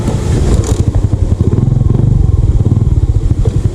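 A Yamaha Sniper motorcycle engine chugs nearby with a rapid, pulsing idle that swells briefly as it revs, loud and continuous.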